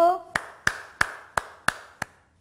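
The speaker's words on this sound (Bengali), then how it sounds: "আমি এখন তুড়ি বাজাবো" A brief voice is followed by six crisp finger snaps, close and evenly spaced at a steady rhythm, each short and sharp with a quick decay.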